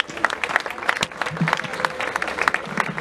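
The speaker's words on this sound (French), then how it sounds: "On peut encore l'applaudir s'il vous plaît?" Audience applause for a female government minister at an official public event, uneven bursts of clapping mixed with crowd murmur and some voices.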